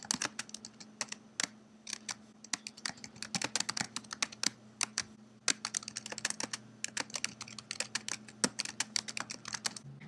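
Rapid, steady typing on a computer keyboard while filling in a text box in a PowerPoint and Captivate tutorial, with crisp, close key clicks in uneven bursts and short pauses over a faint constant hum.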